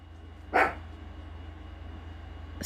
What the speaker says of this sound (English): She's like barking at the air right now.